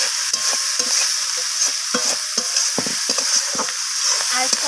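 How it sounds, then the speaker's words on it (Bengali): Vegetables, spices and coriander leaves stir-fried in oil for a rohu fish curry with onion stalks, a loud close sizzle under rapid, repeated spatula scrapes and knocks against the pan; no voices. "ধনিয়া পাতাটাকে দিয়ে আমি আবারও কষিয়ে নিলাম।"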